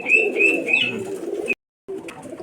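Local Giribaj pigeons at a Rajshahi pigeon market coo in repeated soft, throaty calls close by, a few phrases in succession with a brief silent gap before more cooing resumes.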